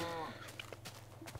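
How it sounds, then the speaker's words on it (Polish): A cow in the Minecraft video game lets out a brief, low moo at the start, fairly faint and short against a quiet background. "Zamknij mordę, kupia krowo."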